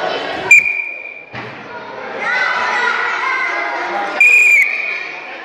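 Referee's whistle at a Lord of the Rings–themed arm wrestling match, two sharp loud blasts at start and near end, with a crowd and children's voices murmuring in the hall between them.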